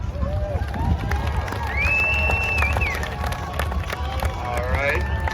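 Crowd in the grandstand at the 177th Perth Fair demolition derby in Perth, Ontario, clapping and cheering for a driver, a continuous mix of applause, whistles and shouts from a sizeable audience, with tonal wails rising above the din.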